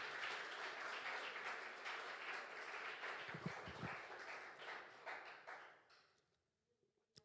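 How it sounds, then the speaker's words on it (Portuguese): A church congregation applauds the Lord during a family service, a dense wash of clapping from many hands that holds steady, then thins and fades out to near silence with a few last claps. "dê um grande aplauso ao Senhor"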